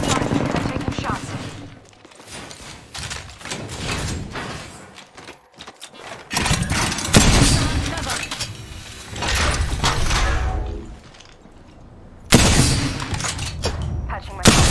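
Video game gunfire crackles in dense bursts and rapid automatic strings, loud and close, with short pauses between volleys and a player's voice talking over parts of it.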